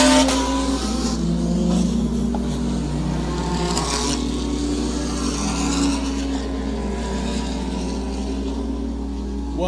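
Race cars in a GT Challenge event at the Guyana Grand Prix circle on sighting laps warming their tyres, engines droning steadily and loudly with a continuous hum and occasional rising revs.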